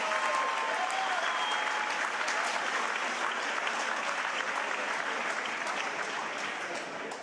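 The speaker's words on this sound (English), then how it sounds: "Another big round of applause for a great organization" A crowd at a live boxing event applauds steadily for several seconds, a dense, even wash of clapping that fades slightly at the end.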